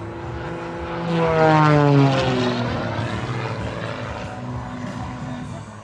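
A propeller aerobatic airplane sweeps low and fast past an air show crowd. Its engine roar swells loudly, then falls in pitch as it passes and fades into a steady drone.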